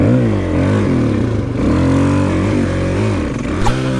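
A four-stroke dual sport motorcycle engine heard up close from the rider's position, droning steadily with rising and falling revs as the throttle opens and eases off.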